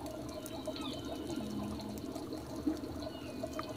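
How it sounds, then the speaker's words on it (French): Bubbling and gurgling water from scuba air bubbles during a dive about six metres deep in the rocky coves near Port-Vendres, a steady close watery rush with soft pops and trickles throughout. "le bruit des bulles"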